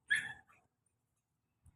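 A dog at the seaside gives one short, sharp bark followed by a softer yip, then near silence with a faint thump at the end.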